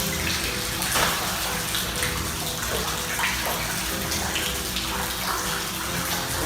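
Water flows and splashes steadily inside an abandoned dead mall, a continuous broadband gush with scattered drips, loud and close with no voices.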